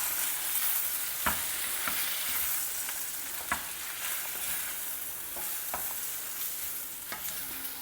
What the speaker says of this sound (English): Gently mix everything well together.